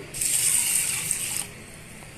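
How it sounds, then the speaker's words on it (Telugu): Toor dal being washed with water in a pressure cooker pot, a loud close rush of poured water for over a second, then a quieter swishing of the wet lentils. "కుక్కర్ పాత్రలోకి వేసుకొని నీళ్లు పోసుకొని శుభ్రంగా వాష్ చేసుకొని"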